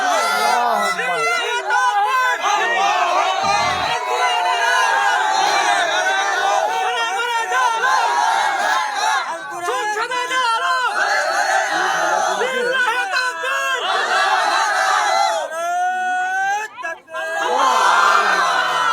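A crowd at an Islamic religious gathering (mahfil) chants the takbir, with loud, sustained massed voices rising and falling nearly the whole time amid general hubbub.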